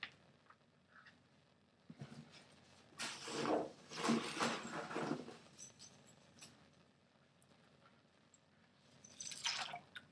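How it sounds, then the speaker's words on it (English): Ice tipped into a tub holding about four quarts of water, splashing and clattering in a loud burst of several seconds with smaller drips before and a brief splash near the end, no voices. "Actually, I'll put the ice in right now."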